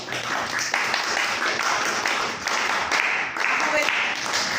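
Audience clapping at a Spanish-language press conference honoring youth members, a broad, sustained wash of many hands with slight swells, mid-distance and moderately loud.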